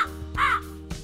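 A crow caws three times in a loose rhythm, the middle call loudest and longest, heard alone and fairly close against a low steady hum.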